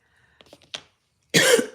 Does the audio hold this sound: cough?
yes